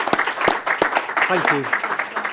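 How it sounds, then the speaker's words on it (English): A panel discussion audience applauds at the close of a Syria crisis response Q&A, a scattered burst of clapping heard under close talking voices. "please join me in a round of applause for the panel"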